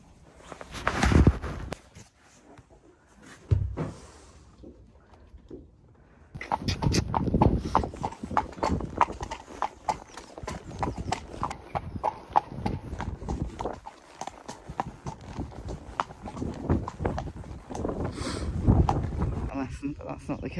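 A ridden dressage mare clip-clops on a schooling surface, her steady hoofbeats running close and clear through a transition while people talk over them at intervals.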